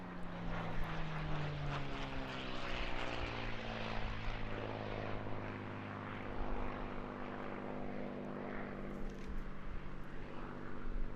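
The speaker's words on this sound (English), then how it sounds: "look like Captain William Wisner's aircraft, one of the blue-nosed Mustangs from Bodney." P-51D Mustang with a blue nose flying at an airshow, a continuous throaty propeller engine drone with shifting pitch as it passes, steady and moderately distant without talk.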